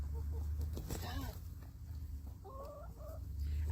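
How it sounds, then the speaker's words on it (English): Backyard chickens and a rooster give short, faint clucks amid steady low hum and rustling, with a couple of brief squawky calls in the middle. "I see the rooster."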